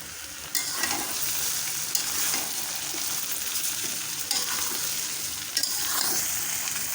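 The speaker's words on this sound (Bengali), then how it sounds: "এখন সম্পূর্ণটা ভালো করে একটু মেশানো হবে, সাথে সাথে একটু ভাজাও হবে" Mango pickle with turmeric, chili and coriander powders stirred and fried in a pan, giving a steady loud sizzle with scraping spoon strokes throughout, no voices.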